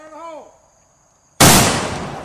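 A homemade potato gun backfires and blows apart with one sudden, very loud close blast that decays into a roaring rumble. A voice is heard before the bang.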